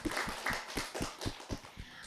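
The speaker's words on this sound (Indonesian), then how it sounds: "Sekali lagi kita kasih tepuk tangan dong untuk Inayah." A school audience gives a student a round of applause at a child-friendly event, heard as a modest, fairly rhythmic patter of clapping with distinct, evenly spaced claps, a small group rather than a large crowd.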